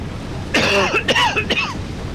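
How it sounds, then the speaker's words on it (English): A few close, rough coughs in quick succession, with throaty voiced sounds between them. "Bit of a cough there"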